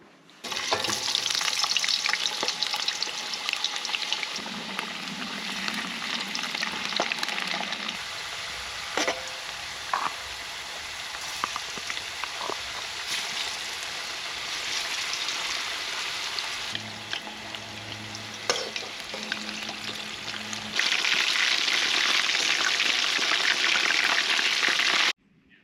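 Potatoes fry in cooking oil in a wok at a summer campsite, a steady close sizzle with stirring scrapes and clinks throughout, the hiss swelling louder near the end.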